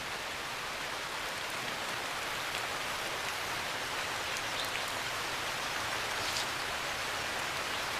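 Steady rain falls across an Indian forest, a dense, even hiss of drops on leaves and leaf litter that holds at a constant level throughout, with no voices or other sounds.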